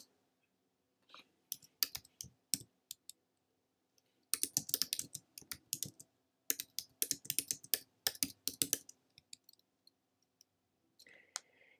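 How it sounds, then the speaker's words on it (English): Bursts of rapid keyboard typing, close and crisp, with pauses between runs of keystrokes; a faint higher tone appears near the end. "You can hear me typing."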